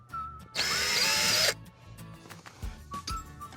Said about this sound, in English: So I want you to drill me a hole right there,